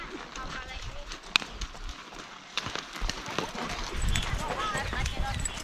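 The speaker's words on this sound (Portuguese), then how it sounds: "Cavalo calmo, tranquilo na cancela." Horse hooves clip-clop on a vaquejada track at a stable's arena, sounding as faint, scattered thuds and clicks amid crowd chatter and background talk.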